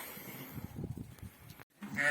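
Sheep in a pen, a few bleats and low murmuring livestock sounds close by, with a brief pause before a louder, tonal bleat at the end.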